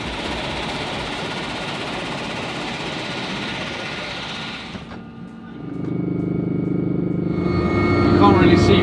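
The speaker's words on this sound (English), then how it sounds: "back on a helicopter" A helicopter on an airport runway: a broad engine and rotor roar gives way to a brief dip, then a lower, rising turbine whine and drone builds close by and grows louder toward the end.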